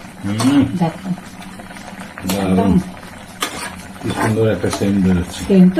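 A sour curry of green and ripe mango with hilsa fish head and tail bubbles in a pot, a soft steady simmer heard close beneath a person talking.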